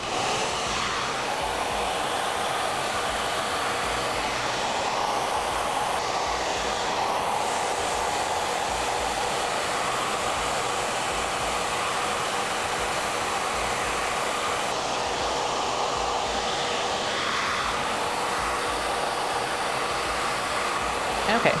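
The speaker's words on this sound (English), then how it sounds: "now we're going to get our diffuser out and we're going to work with the blow dryer" A blow dryer fitted with a diffuser dries and volumizes curly hair in a salon, giving a steady, loud, unbroken whirring rush of air that runs close and constant throughout with no talking.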